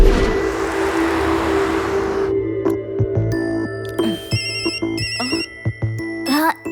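A phone ringtone plays out as a looping electronic tune with chiming beeps, repeating several times in the foreground after a short burst of hiss, with no talking over it.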